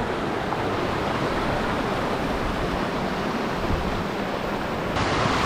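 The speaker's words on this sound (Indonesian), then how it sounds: "Ini salah satu sungai di jalur Torean yang bisa diminum." A drinkable mountain river on the Torean trail in Lombok rushes continuously, a loud, dense and even hiss of flowing water close by with no talk over it.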